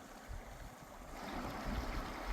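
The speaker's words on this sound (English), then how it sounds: "This is the current river." The Current River in Missouri flowing steadily past, a broad soft rushing wash of water that swells slightly louder toward the end, with no voices.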